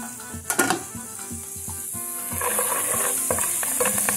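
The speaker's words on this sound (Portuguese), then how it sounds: "Já comecei a fritar o alho com semente de coentro" Garlic and coriander seeds fry in a pan, with sharp spoon clinks and scrapes against the metal early on, then a steadier close sizzle building and continuing to the end.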